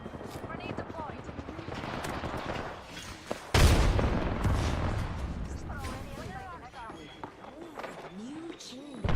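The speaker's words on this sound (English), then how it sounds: "Grenade deployed." A thermite grenade bursts with a loud, sudden boom partway through a video game firefight, amid steady rattling gunfire and game voice lines.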